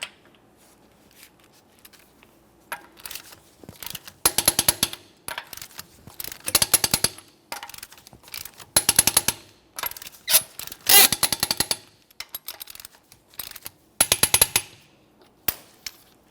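A torque wrench clicks repeatedly as lug nuts on a 2015-2019 Subaru Outback wheel are tightened to 90 foot-pounds in a crisscross pattern, with sharp metallic clicks in clustered bursts separated by short pauses, close by.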